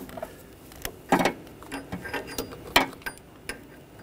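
A ratchet socket tightening a downstream O2 sensor on a 2013-2019 Ford Escape, giving a handful of short, close mechanical clicks and clacks spaced irregularly over a few seconds.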